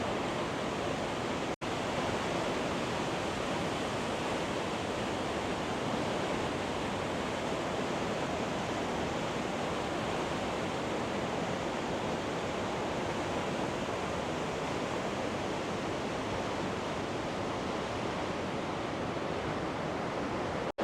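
Several small waterfalls in Switzerland merging into one spot, giving a constant, even hiss of rushing water that stays steady and unchanging for a long stretch, with no voices.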